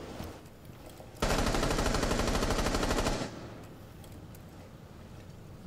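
Sustained machine gun fire in Rainbow Six Siege, a loud continuous rapid rattle of evenly spaced shots lasting about two seconds before cutting off to quiet background.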